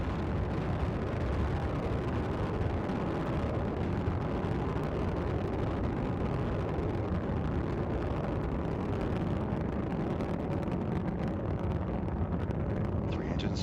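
Space Shuttle Endeavour's rocket engines roaring during a night launch from Kennedy Space Center, a dense, steady broadband rumble that holds at full loudness throughout with no pauses.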